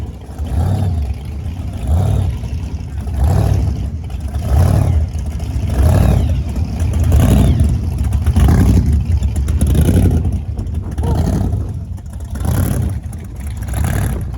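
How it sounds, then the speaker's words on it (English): Chevy Biscayne muscle car at an outdoor car show, its engine rumbling and revving in repeated loud surges about every one to two seconds, deep and close. "If you haven't felt rumbling on the ground and not an earthquake, you know it's a muscle car."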